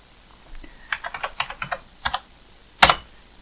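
Keys clack on a computer keyboard in short, uneven bursts, about a dozen crisp nearby strokes, closing with one sharper, louder hit; no voices.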